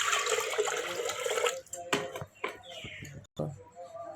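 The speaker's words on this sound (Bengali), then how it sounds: "এখন আমি এটা জল দিয়ে বসিয়ে দেব।" Water poured into a pot of mashkalai lentils cooked with rohu fish head for a pressure cooker, a steady close splashing stream for about a second and a half, followed by scattered clinks and drips.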